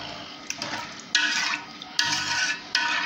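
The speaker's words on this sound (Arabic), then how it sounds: "هنا هنحط الملح، نقلبه تقليبه كده" Rice being stirred in a pot just after salt goes in, with several scraping, swishing strokes of a spoon against the pot, close and fairly loud, arriving in bursts with brief pauses between them.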